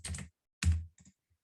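Typing on a computer keyboard during coding work on a chat app, heard as two short bursts of close, quick key clicks and then a few softer taps, with no talk.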